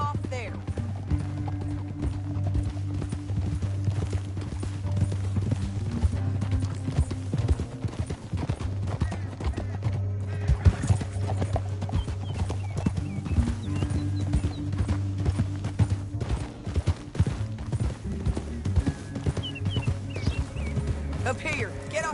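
Horses gallop in Red Dead Redemption II, rapid hoofbeat clip-clops running steadily over a low rumble of the game's score, with voices talking over them.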